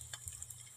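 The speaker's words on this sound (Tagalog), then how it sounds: "So guys, so piniprito na natin" Korean vegetable fritters (yachaegeon) frying in hot oil, giving a steady soft sizzle with faint crackles, quiet and close, no voices.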